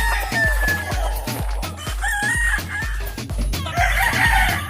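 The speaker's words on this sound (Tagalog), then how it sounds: "Mga manok." Hens cluck in a steady rhythmic chorus close by while a rooster crows loudly over them, repeating its call.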